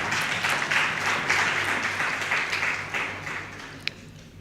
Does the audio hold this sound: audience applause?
yes